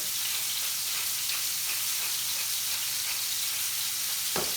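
A rump of lamb sears in a hot pan after being turned from its fat side, giving a loud, close, steady sizzle and crackle that stays unbroken to a brief thump near the end.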